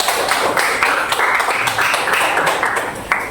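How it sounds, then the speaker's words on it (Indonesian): A classroom group claps together for group 3 after their presentation, a steady, dense patter of many hands with a faintly rhythmic pulse, close and sustained throughout with no voices over it. "tepuk tangan untuk kelompok 3"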